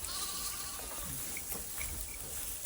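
Sheep being driven out to water on a rural grazing route bleat faintly and intermittently through steady broadband outdoor noise, with no voices.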